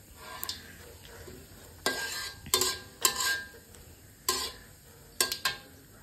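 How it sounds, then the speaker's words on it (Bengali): Whole spices and dried red chillies crackle softly in hot oil as tempering for a vegetable curry, punctuated by sharp, irregular spatula scrapes and clinks against the pan, with no talking. "আর শুকনো মরিচ ফোড়ন। তারপর ফোড়ন দিয়ে দিলাম।"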